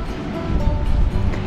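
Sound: ocean waves at Bunda Cliffs, Australia

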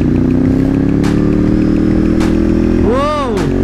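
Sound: sport motorcycle engine

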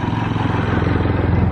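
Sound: motorcycle passing by

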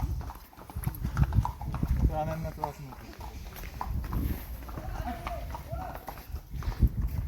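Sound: horse hooves clip-clopping on hill path at Matheran

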